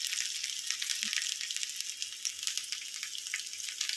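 Mustard seeds, green chili and ginger sizzling in hot tempering oil, a steady crackling hiss that runs quietly and evenly throughout with no talking.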